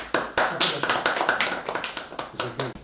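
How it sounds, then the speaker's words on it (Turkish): Residents of Burunucu neighbourhood clap for their mayor during a thank-you visit, a run of sharp uneven hand claps that is loud and close, with talk mixed in. "Seni alkışlıyoruz."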